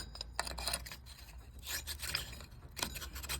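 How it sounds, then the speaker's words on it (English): A light bulb being moved and screwed into the socket of an antique brass Harbor Breeze Cheshire ceiling fan, heard as close, scraping and gritty rubbing bursts with no talk. "I'm going to take this bulb here and move it here."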